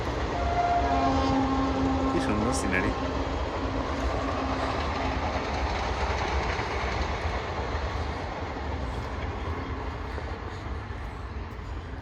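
A train rolls past on the railway tracks near Purbasthali, making a loud, steady rumble across the whole stretch. Brief horn notes sound near the start, and a voice speaks briefly over the noise.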